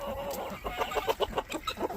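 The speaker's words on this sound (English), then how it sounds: "Move, chickens." Chickens cluck in a coop being readied for cold weather, a close, busy run of short rhythmic clucks repeating steadily with no talk over them.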